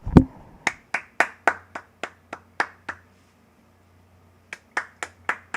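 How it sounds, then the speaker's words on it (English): A quiz host claps alone at a classroom quiz, a dozen sharp hand claps in a loose, uneven rhythm, a pause of over a second, then a few more claps, close and clear with no talk. "I'm just going to give you all a round of applause."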